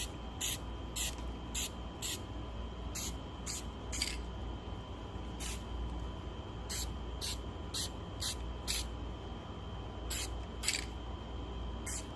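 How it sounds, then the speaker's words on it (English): Spray paint from a rattle can is applied to a phone mount for a Tesla Model Y or Model 3, heard as many short, sharp hissing bursts over a low steady background. "This is absolutely the best paint, period, if you're going to use a rattle can."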